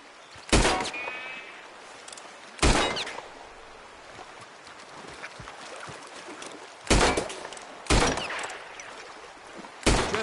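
Sharp gunshots blasting at a lock, five separate reports spaced irregularly over several seconds, each loud and close with a short decaying tail over quiet background.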